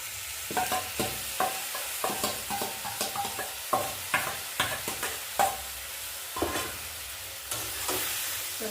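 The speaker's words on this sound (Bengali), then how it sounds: "সিমের সঙ্গে পালং শাক বাটাটাকে কষে নেব।" Beans and spinach paste being sautéed in a pan, with repeated scraping stir strokes over a steady soft sizzle, close and alone without talk.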